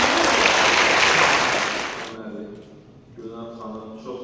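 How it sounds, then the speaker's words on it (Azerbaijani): Enthusiastic audience applause at a university monodrama performance, a loud dense roar of clapping for about two seconds that fades into a quiet room with scattered noise and soft voices. "Qələbəmizə alqış olsun."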